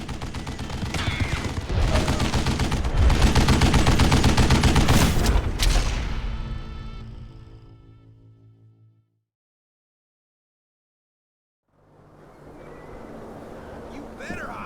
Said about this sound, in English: Kid Curry opened up on me with a goddamn Gatling gun.